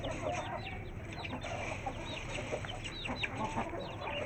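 Clucking from an Aseel hen, repeated short calls over a busy backdrop of other fowl in a farmyard pen, steady and fairly close.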